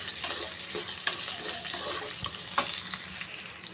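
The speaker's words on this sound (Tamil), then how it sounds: "நல்லா மசாலாவும் நல்லா வதக்கிக்கிறலாம்" Masala with onion, garlic, dried red chillies and curry leaves sautés in a pan for a country chicken curry, a dense up-close sizzle broken by scraping stirs and occasional clicks of a spatula, with no voices.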